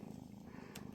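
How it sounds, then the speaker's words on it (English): A kitten purrs close up with a soft, steady low rumble through one second, with a brief faint rustle partway through. "you're purring"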